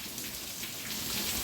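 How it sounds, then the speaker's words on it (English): Heavy rain pours down outdoors as a steady, dense hiss of falling water that stays even and fairly soft, with no other sounds standing out. "I hope you don't mind this rain video, but man, it's coming down"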